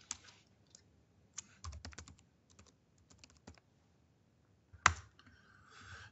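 Computer keyboard typed on to enter search terms, quiet scattered key clicks in short bursts with pauses, close and faint, one sharper louder click near the end.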